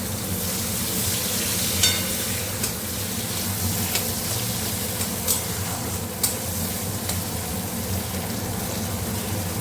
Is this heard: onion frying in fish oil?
yes